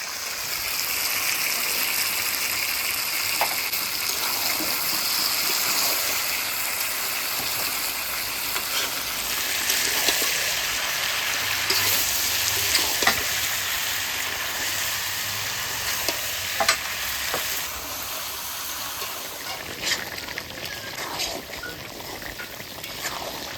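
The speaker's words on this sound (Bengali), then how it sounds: "এবার এই চই ঝাল আর কিছু কাঁচা পেঁয়াজ একসঙ্গে দিয়ে দেবো।" Chui jhal stems and raw onions fry in a hot pan for duck curry, giving a steady, close, broadband sizzle throughout with scattered crackles and occasional stirring clicks, no voices.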